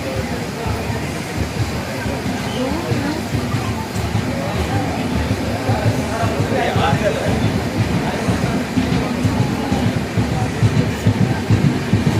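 The Pallavan SF Express rumbles along the tracks near Pennadam, a continuous low rolling roar with faint rhythmic clatter building slightly louder over time, heard from inside the moving train.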